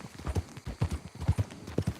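Horse hooves in Red Dead Redemption 2 clip-clop in a quick, uneven rhythm, close and crisp, with no voices over them.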